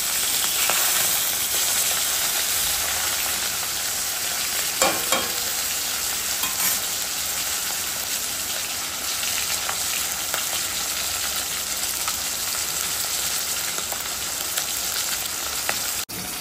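Rohu fish head frying in a pan, a steady, loud sizzle and hiss that runs the whole time, with a few soft stirring knocks and no voices.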